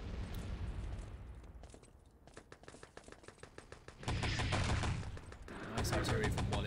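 Artillery strike during a competitive multiplayer shooter match: bursts of rapid gunfire lead into heavy, rumbling impact blasts that swell loudly, with brief spoken commentary in between.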